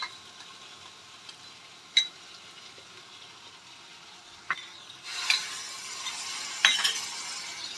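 Spice paste of soaked coriander, chilli, turmeric and cumin powders fries in a pan. It starts quiet with a few sharp clinks, then a faint sizzle swells partway through and continues under occasional utensil taps.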